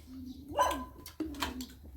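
A dog gives two short barks about half a second apart, close by over a low steady hum.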